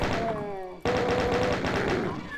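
Rapid machine-gun bursts from a chaingunner enemy firing its chaingun in a Doom game mod, dense repeated shots with a brief break, over music and a voice talking.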